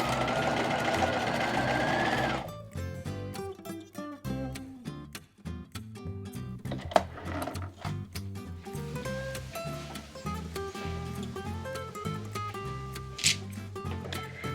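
A sewing machine stitches a seam along a fabric edge, backstitching first and then running forward down a sample piece, giving a close, rapid mechanical whirr in short bursts with brief pauses between runs.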